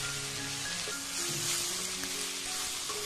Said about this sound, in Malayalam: ഇനി ഇതിലേക്ക് 4 സവാള നീളത്തിലരിഞ്ഞത് ഇട്ട് കൊടുക്കാം. കുറച്ച് ഉപ്പ് ചേർത്തിട്ട് നന്നായിട്ട് ഇതൊന്ന് വഴറ്റിയെടുക്കാം.